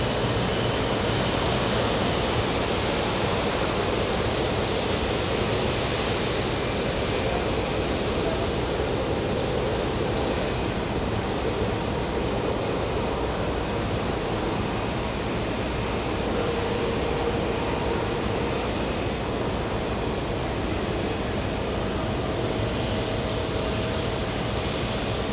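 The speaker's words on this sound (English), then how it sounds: "We have a big one about to take off. American 44 flying to Paris, lining up as we speak." American Airlines jet lining up for takeoff at JFK bound for Paris, a steady broadband engine roar that holds evenly loud throughout, with faint voices underneath.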